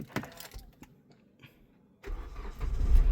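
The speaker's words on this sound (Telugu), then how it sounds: "సింగిల్ సెల్ఫ్లో కార్ స్టార్ట్ అవుతుందండి ఎటువంటి స్టార్టింగ్ ట్రబుల్ అయితే లేదండి" A 2017 Hyundai i20 Asta starting on the first turn of the key: a brief cranking burst, then the engine catches and settles into a steady, fairly loud idle close by.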